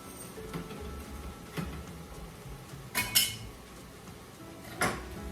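Ground turkey is stirred in a pan of soup base, faint sizzling under a few sparse clinks and scrapes of a utensil against the metal pan.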